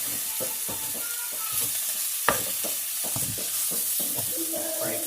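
Ground meat and onions for homemade chili sizzle in a pot while a spoon breaks them apart, rhythmic scraping stirs over a constant frying hiss, with one sharp knock near the middle, no talking.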